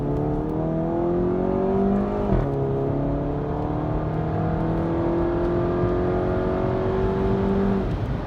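A VW GTI MK7 running a Stratified Stage 2 ECU flash tune with extended crackles revs hard, its engine note climbing, dropping briefly, then rising again in a loud, sustained whine close by, with no talk.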